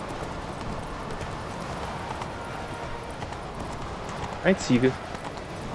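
Horse hooves clip-clop at a steady pace in the video game The Witcher 3, soft and continuous under ambient game noise, with a short spoken voice near the end.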